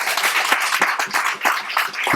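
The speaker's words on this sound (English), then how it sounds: "So massive round of applause for everyone" A crowd applauding at an anniversary gathering, dense and fairly loud with individual sharp claps punctuating the steady patter for about two seconds, no voices heard.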